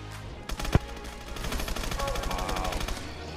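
Rapid PDW gunfire in the video game Call of Duty: Advanced Warfare Exo Zombies, a sustained burst of fast, evenly spaced shots following a single sharp bang, with game sounds behind it.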